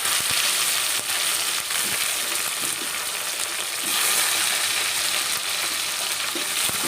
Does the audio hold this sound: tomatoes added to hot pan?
yes